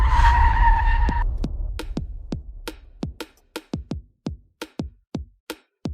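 A car speeds in loud and skids to a stop on a road, a long tire squeal under engine roar that cuts off after about a second, followed by a run of sharp, evenly spaced knocks.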